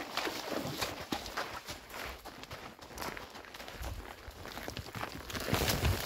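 A horse walking outdoors on a rural trail, its hooves thudding and clopping on the ground in an uneven rhythm, close by, with rustling around the steps and no talk.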